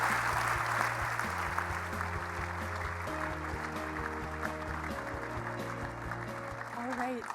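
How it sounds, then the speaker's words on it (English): Audience applause for Ontario Finance Minister Peter Bethlenfalvy at a speaking event, a dense steady clapping wash lasting the full clip, with sustained musical tones playing over it. "Let's give them another round of applause."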